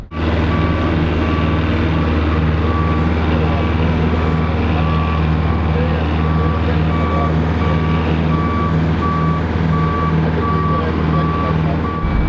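Boat travel lift in a boatyard moving with regular reversing beeps sounding over a steady loud diesel engine drone, close, continuous for the whole stretch, with people talking faintly underneath.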